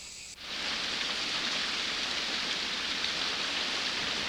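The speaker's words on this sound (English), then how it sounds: "in no time a heavy rain begins to fall" Heavy rainforest rain in a rainy-season squall in Macarena, Colombia, arriving abruptly after a brief quiet moment, then roaring as a dense, steady downpour close by with no voices.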